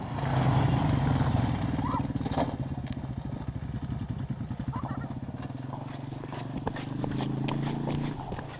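A Honda motorcycle ridden outdoors in Fairbanks, Alaska, its engine chugging in a rapid, steady pulse that rises and falls with throttle, heard fairly close with no voices over it.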